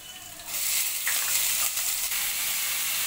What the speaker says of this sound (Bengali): পেঁয়াজটাও ভালো করে কাঁচা লঙ্কা আর রসুনের সাথে ভেজে নেব।